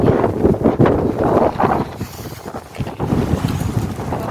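Strong, cold wind on a walking track buffets the microphone in loud, continuous gusts, a low rumbling roar that surges and eases without pause.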